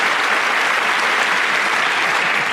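A comedy show crowd in Lyon breaks into loud, dense applause, a continuous roar of many hands clapping close by without any speech on top.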